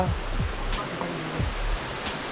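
A steady broadband rush of falling water at Tat Fa waterfall in Phu Wiang National Park, Thailand, close and continuous, with faint low tones drifting underneath.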